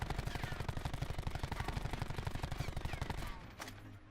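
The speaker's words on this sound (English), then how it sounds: "But let's just aim down sight, again, no other attachments, and we're gonna fire away." Automatic weapon fire in the video game Black Ops 4, a loud rapid burst of evenly spaced shots lasting about three seconds before stopping, followed by a brief mechanical clatter.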